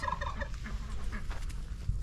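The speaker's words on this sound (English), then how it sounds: "So we are going to start off with our little special chickens." Small backyard chickens cluck close by, a quick run of soft, short clucks and chirpy calls over a couple of seconds, with no one talking.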